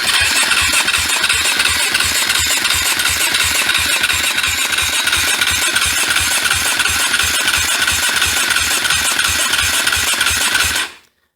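A KTM 450 motorcycle engine, first started in ten years, cranks and runs loudly and steadily with a fast regular pulsing beat close up, then cuts off abruptly at the end.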